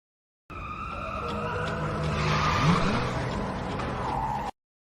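A car pulls away with a brief tire screech over a steady, close engine roar that swells slightly midway through about four seconds of sound.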